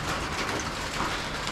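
Rain falls steadily during repair work on a Nissan 350Z, a dense, even hiss of drops with no distinct events or voices over the short stretch.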